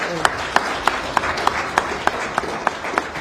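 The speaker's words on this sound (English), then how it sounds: "A round of applause to" An audience at a State of the City address claps for a presenter, heard as a faint wash of applause with sharp regular claps standing out over low background noise.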